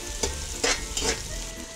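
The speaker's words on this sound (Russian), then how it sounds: "Добавляем лучок порезанный. Добавляем морковь. Это все перемешиваем." Chopped onion and carrot fry in a pan for stuffed cabbage rolls, a steady sizzle broken by three distinct bursts of stirring scrapes, close and alone without talk.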